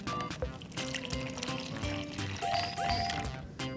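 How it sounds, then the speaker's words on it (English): Vinegar poured from a measuring cup into a bottle, a close, faint liquid trickle and splash with light clinks for a few seconds. "We're gonna pour the vinegar in our first bottle."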